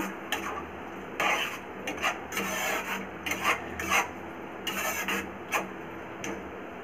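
A spatula scrapes and stirs egg-free tarka chicken in a pan in repeated rasping strokes, close and fairly quiet, with no voices.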